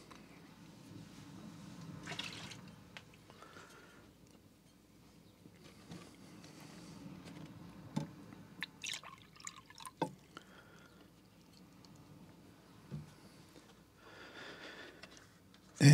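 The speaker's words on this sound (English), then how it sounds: "Let's change out the water one more time." Watercolor rinse water is being changed, with sparse drips and small splashes of water coming through at a quiet level, separated by soft handling noises and brief pauses.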